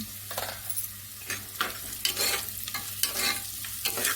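Onions with salt frying in a pan for cabbage palya, stirred with repeated scraping strokes over a steady close sizzle, no voices.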